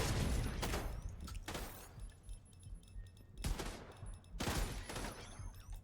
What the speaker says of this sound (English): He's been shooting at me for a while now.